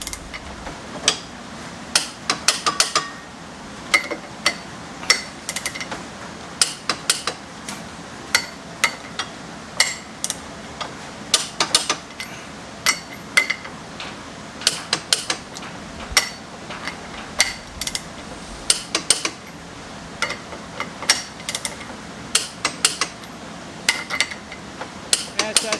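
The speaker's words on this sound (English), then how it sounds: "That's us torquing them all in 74 pounds with red Loctite." A torque wrench sets pinion bolts on a hot rod differential, giving sharp, close metallic clicks at irregular intervals over a steady low background, with some clustered taps and clinks between them.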